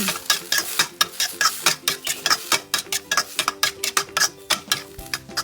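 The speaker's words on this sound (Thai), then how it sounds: "ผัดคลุกเคล้าส่วนผสมให้เข้ากัน" Glass noodles stir-fried with oyster sauce, light and dark soy sauce and sugar, a spatula clacking and scraping against the pan in quick regular strokes, close, with a faint sizzle underneath.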